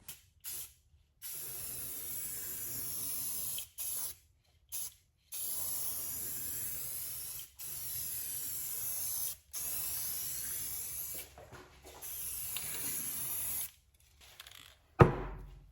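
Duplicolor 1K clear coat sprays from an aerosol can in a run of long hissing bursts separated by short pauses, close and steady, ending with a sharp clunk.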